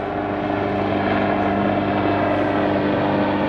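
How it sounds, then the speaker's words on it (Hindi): Steady, loud rotor and engine drone of a helicopter overhead, with a constant low throbbing that holds without any voices. "हेलीकॉप्टर बड़े आ रहे हैं"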